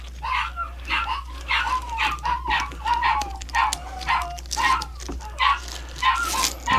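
Several dogs bark and yip in quick, repeated bursts indoors during a kitchen faucet upgrade, close and fairly loud, with some whimpering between barks.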